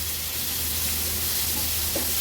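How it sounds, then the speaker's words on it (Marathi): Two medium finely chopped tomatoes sizzle in hot oil with spices, a steady close hissing fry with a low hum beneath and a faint stir near the end, with no voices. "आता आपण ह्याच्यामध्ये जे 2 मीडियम साईजचे टोमॅटो बारीक चिरून घेतलेले ते ऍड करूया।"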